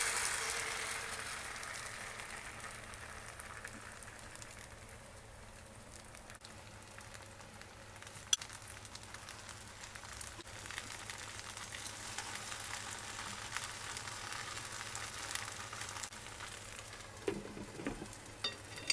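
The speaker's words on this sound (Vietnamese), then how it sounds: "Mỗi một cái bánh thì mình sẽ chiên một giá bột." Bánh xèo batter made with all-purpose flour frying in an oiled pan, a steady soft sizzle and crackle running throughout without speech, with a few sharper pops near the end.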